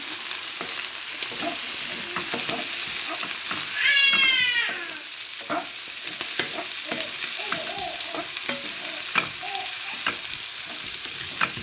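Nigerian fried rice with green beans and green pepper stirred in a frying pan, a continuous sizzle broken by repeated scraping strokes of the spatula, while a cat meows nearby partway through.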